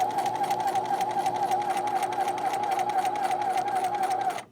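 Sewing machine stitching a quarter-inch seam along the edge of the presser foot, a steady close motor whir with rapid needle rhythm running continuously for several seconds before stopping abruptly.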